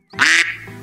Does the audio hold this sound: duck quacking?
yes